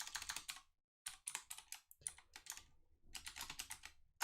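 Rapid typing on a computer keyboard during a developer coding demo, close and crisp in quick bursts with a short pause near the start and another around the two-second mark.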